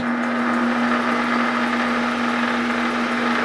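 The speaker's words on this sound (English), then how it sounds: "So we'll start our trusty lathe" A lathe runs steadily, giving a constant motor hum with a strong tonal whine and broad whirring noise, close and unchanging throughout with no talk.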